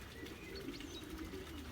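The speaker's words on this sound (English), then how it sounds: "I've just let the first round young birds out" Young Belgian racing pigeons are let out in the rain, giving soft cooing and brief chirps over faint background noise, with no talking.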